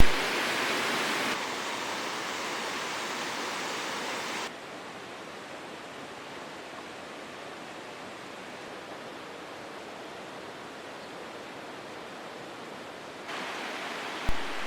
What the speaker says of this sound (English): We can hear the creek roaring louder and louder every step we go